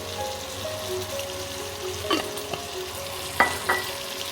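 Fried prawns in batter getting a splash of water in a pan: a steady sizzle and frying hiss with a few sharp utensil clicks against the pan.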